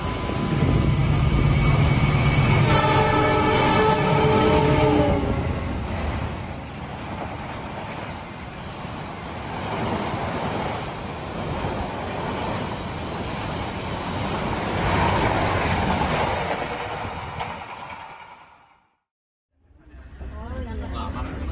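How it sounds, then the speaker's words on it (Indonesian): The Sembrani express train runs through Jatibarang station without stopping, heard from aboard a waiting train as a sustained loud rushing roar that swells and then cuts off abruptly, with people talking over it. "kereta api Sembrani akan melintas langsung di stasiun Jatibarang. Tuh, siap-siap nih keretanya ngebut nih."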